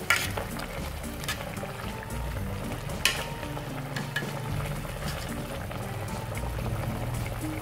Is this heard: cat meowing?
no